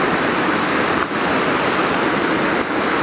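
Thirlmere waterfalls in the Lake District roar close by, a loud, steady rushing of falling water that fills the sound with no other noises.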